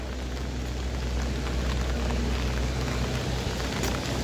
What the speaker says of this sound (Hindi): इतनी ज़्यादा बारिश हो रही है, बहुत बारिश हो रही है